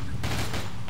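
Rapid gunfire crackles through a scary zombie video game with a SWAT character, a dense burst of shots over about a second beneath a constant muffled background.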